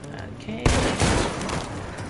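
Gunfire in Detroit: Become Human erupts as a sudden loud volley of shots, with one sharp crack followed by a rolling, echoing burst of rapid fire.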